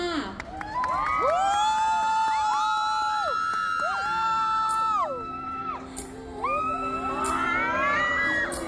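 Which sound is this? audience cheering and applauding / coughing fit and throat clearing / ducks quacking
audience cheering and applauding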